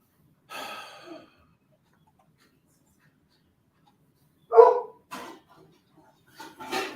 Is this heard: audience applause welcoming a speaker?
no